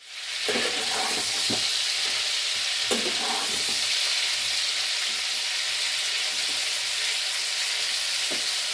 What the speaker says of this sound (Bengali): হালকা করে ভেজে নিতে হবে। ফুলকপিগুলো আমি দিয়ে দিচ্ছি।